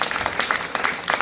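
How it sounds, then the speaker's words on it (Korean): Audience applause at a post-performance talk with the artists, a steady wash of many hands clapping from start to finish with no break. "박수 한번 부탁드리겠습니다"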